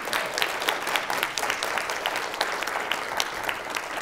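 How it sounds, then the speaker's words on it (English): A prayer breakfast audience claps warmly for Siobhan O'Donoghue, with even, continuous applause filling the room from start to finish. "Can we give her a round of applause, please?"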